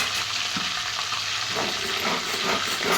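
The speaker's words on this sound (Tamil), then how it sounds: "லேசாக கிண்டிக்கணும்" Food frying in a pan hisses steadily and evenly, with soft stirring scrapes mixed into the constant sizzle, close and moderately loud.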